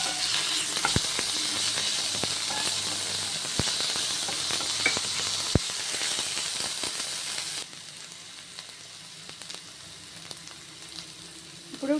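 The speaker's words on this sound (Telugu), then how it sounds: "ఇలా వేయించుకున్న తర్వాత ఇందులో మనం ఇప్పుడు అల్లం పేస్ట్ యాడ్ చేసుకుందాం" Onions frying with ginger paste in a pan give off a steady, close sizzle with occasional clicks of a stirring utensil, and the hiss drops noticeably quieter toward the end.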